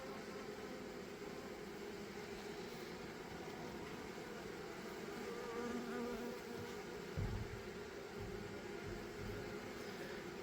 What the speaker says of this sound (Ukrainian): Да, Трошки часу проходить, але ви бачите, бджоли вентилюють. Осваюють своє нове гніздо.